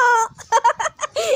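A chicken gives a loud, close burst of rapid, choppy clucks, several short notes in quick succession ending in a longer squawk.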